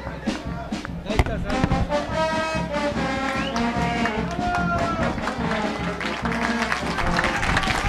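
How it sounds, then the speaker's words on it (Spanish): Crowd applause and cheering in the stands at a local football tournament final, a sustained wash of clapping and noise with commentators talking over it. "le está aplaudiendo la afición a Gustavo Alvarado"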